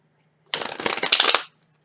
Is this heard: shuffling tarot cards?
yes